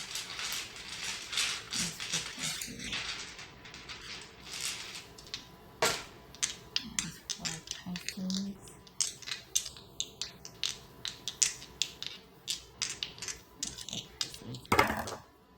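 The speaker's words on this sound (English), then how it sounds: "All right, now for the dice." Dice rattling and clacking during a tarot reading, a dense run of sharp clicks and knocks with small rolling bursts, fairly close, with louder distinct impacts near the end and no talking.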